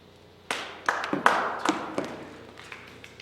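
Scattered claps from a small audience at a meeting, a few separate sharp hand claps and taps starting after a short pause, then fading to quiet, with no steady applause.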